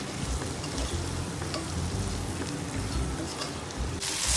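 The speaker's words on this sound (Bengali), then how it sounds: "ভাজা ডিমগুলো দিয়ে এবার আমি এটাকে একটু কষায় নেব।" Fried eggs sizzle in a pan of masala with oil while being stir-fried for egg curry, a steady, close crackle with scraping stir noises and no talking.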